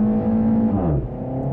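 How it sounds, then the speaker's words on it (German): A 2018 Renault Mégane RS sits in launch control with the brake held and the throttle pressed, its turbo spooling. The close engine drones at steady revs, then the tone dips briefly. "Da hörst du den Turbolader schon so ein bisschen vorspulen"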